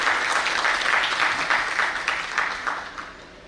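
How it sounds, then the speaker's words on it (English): A conference audience at a national management convention breaks into a sustained round of applause, dense and steady clapping from a large crowd that fades slightly toward the end. "Let us all, with a huge round of applause, invite Mr. Sailesh Nigam to chair this panel."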